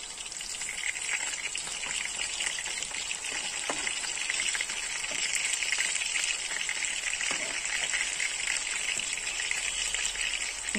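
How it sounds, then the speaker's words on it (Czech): Karbošky, small patties, frying slowly in a pan over a low flame, a steady close sizzle with soft crackling that holds evenly throughout, no voices. "A pomalinku smažíme."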